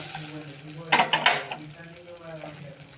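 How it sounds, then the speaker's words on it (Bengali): Soft sizzling of vegetable-stuffed paratha frying in a pan, broken by a brief burst of scraping and clinking from a spatula, with a low hum in the background. "এখানে ভাজা আমি আরম্ভ করে দিয়েছি"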